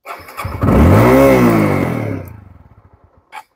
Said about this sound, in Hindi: तो इसीलिए इंजन स्टार्ट हो गया